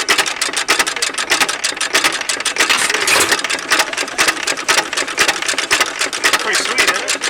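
A 1911 farm engine mounted in a 1956 Willys runs with a rapid, even chugging beat that holds a steady speed, loud and close throughout, with someone talking over it.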